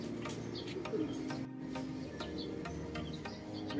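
Pigeons coo steadily and close by at a racing loft during a derby as birds arrive, with faint chirps and background bustle underneath.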